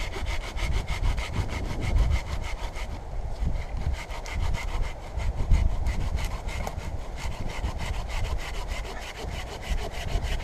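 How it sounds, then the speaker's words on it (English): A wooden tree branch being sawn off, cutting away waste to reach fat wood: steady, rhythmic rasping saw strokes run continuously and close, with no voices over them. "I'm going to cut it off about there to get rid of that waste"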